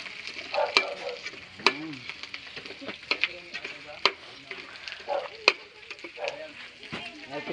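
Garlic sizzling and being stirred in a frying pan, with scattered clinks and scrapes of a utensil over a steady crackle while a person talks intermittently nearby.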